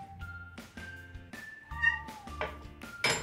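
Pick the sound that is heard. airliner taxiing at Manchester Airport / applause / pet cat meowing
pet cat meowing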